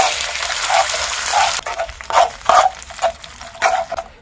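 Margarine and a spoonful of oil being stirred into apple cake batter, a wet, sloshing scrape that starts as a continuous smear and breaks into quick separate strokes, close and fairly loud.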